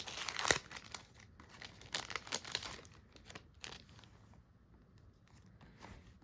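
Sticker packaging crinkles and rustles as it is opened for a cross-stitch project, a sharp crackle first followed by bursts of softer crinkling up close, fading toward the end.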